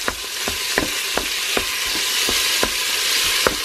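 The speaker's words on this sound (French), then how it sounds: "Ça grésille." Pork sauté sizzling in hot oil inside a Cookeo multicooker, a steady loud frying hiss with regular sharp clicks of a spoon stirring against the pot, no voices.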